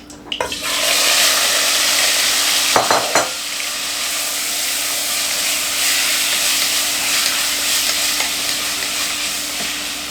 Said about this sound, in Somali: saliidda way noo kulaatay bismillaah. chickenkan ku ridaya